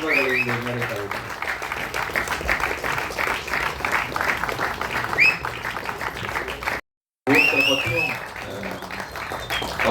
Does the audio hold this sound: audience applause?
yes